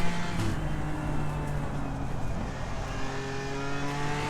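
Sim racing in Assetto Corsa Competizione: a race car's engine hums continuously up close, revs shifting gently as it runs the curbs, with a hint of tire noise and no voices.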